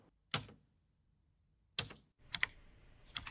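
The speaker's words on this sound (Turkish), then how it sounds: "Bunda biraz daha hızlı bir klavye sesi" An AI-generated keyboard typing sound effect: three short bursts of key clatter, separated by pauses, then a quicker flurry of typing taps near the end; close and crisp with no voices.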